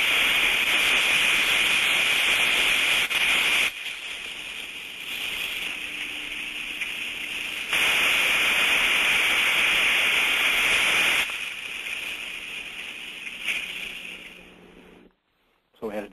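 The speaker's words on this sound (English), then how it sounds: "So a good trap, we're looking for that distinct on-off cycle" A good steam trap heard through a listening device, cycling with a distinct on-off pattern: loud hissing stretches alternating with quieter lulls, a long steady rhythm of open and closed phases.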